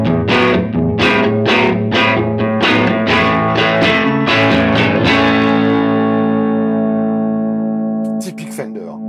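An electric guitar played through an amp simulator pedal with a mildly overdriven Fender-style tone, quick strummed chords ringing out into a long sustained chord, then a brief scrape at the end.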